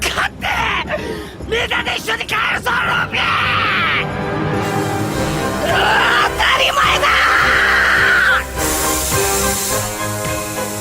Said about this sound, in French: Un hurlement absolument magistral dans lequel on ressent parfaitement la colère mais également l'état d'épuisement du personnage.